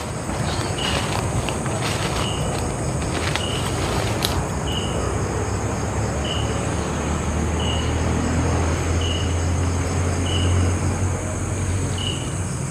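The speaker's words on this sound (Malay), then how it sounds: "Tu ada bunyi kereta, bunyi motosikal sebab kami si jauh daripada jalan raya geng" Steady roar of cars and motorcycles on a road heard from a distance inside a forest, a continuous low rumble of passing vehicles with a faint regular beeping tone repeating throughout.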